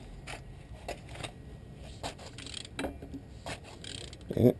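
A wrench works on the front driveshaft of a Hummer H3, giving faint, irregular metallic clicks and ratcheting ticks in a cramped underbody space, with a slightly louder clunk at the end.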